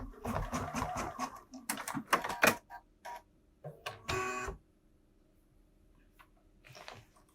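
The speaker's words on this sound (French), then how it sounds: "Je vais maintenant lui laisser broder mes deux repères." A Bernina embroidery machine stitches placement marks, giving bursts of rapid mechanical clatter and ticking that stop and start, close by, with quiet pauses between runs.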